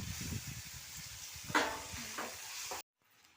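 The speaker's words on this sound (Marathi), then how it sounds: "आता नूडल्स आपण तळलेल्या कांद्यामध्ये सोडूया आणि फ्राय करून घेऊया।" Noodles being fried in a pan with fried onions and spices in a home kitchen, giving a steady sizzle with stirring scrapes and clinks, close and moderately loud, ending abruptly in near silence.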